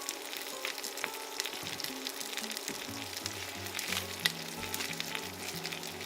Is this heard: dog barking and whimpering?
no